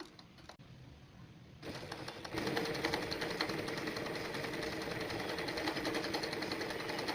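A sewing machine runs steadily while stitching ball chain and stone chain embroidery. It starts as a quieter whir, then settles into a louder, continuous rapid needle clatter after the first couple of seconds.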